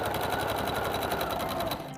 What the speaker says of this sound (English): now this is where I'm going to add some fun to it with a little bit of free motion quilting so I can add some texture